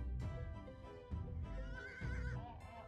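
A horse in Animal Revolt Battle Simulator gives a loud, close whinny, several wavering neighs running together over about three seconds with no talk.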